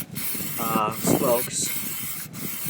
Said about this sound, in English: I'm just spraying one part at a time.